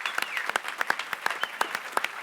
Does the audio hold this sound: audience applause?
yes